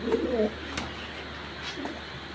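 A breeder pigeon gives a short, low cooing call at the start, close by, followed by quiet room background.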